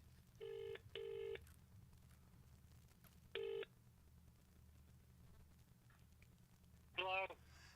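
Telephone keypad tones beep in short bursts as a number is dialed: two quick tones, another a few seconds later, then a final warbling tone, all over a low steady hum.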